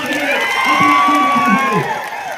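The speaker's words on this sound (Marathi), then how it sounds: "एकदा जोरदार टाळ्या झाल्या पाहिजे" A crowd at an election campaign rally in a village applauds and cheers loudly, a dense wash of clapping and shouts with some whistle-like tones and music carried over it.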